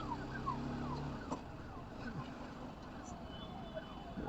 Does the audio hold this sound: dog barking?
no